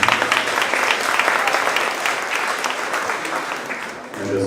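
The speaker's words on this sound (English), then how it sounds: "So why don't we give them a round of applause ahead of time?" A crowd at a church repast meal claps in a steady, dense round of applause, sustained and fairly loud throughout before tapering at the end.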